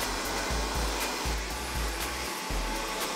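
An ionic hair dryer blows steadily while drying a client's hair at a salon, a continuous fairly quiet whoosh whose low hum shifts in short pulses as the dryer is moved, with no voices.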